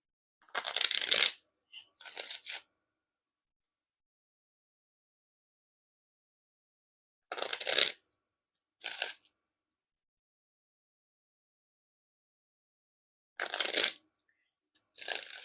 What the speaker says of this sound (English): now time for a riffle shuffle or a bridge shuffle